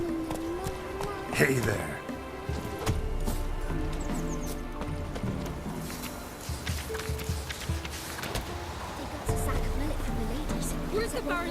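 Horse hooves galloping in The Witcher 3: Wild Hunt, a fast, rhythmic clip-clop running throughout, with a neigh early on and brief talk over it.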